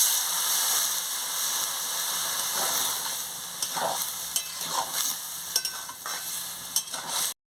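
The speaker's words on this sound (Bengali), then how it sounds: "ভালো করে আনাজটাকে কষাচ্ছি" Mixed vegetables sautéed and stirred in a pan for a Bengali chorchori: a steady sizzle with scraping stir strokes growing more frequent toward the end, close and alone without talk.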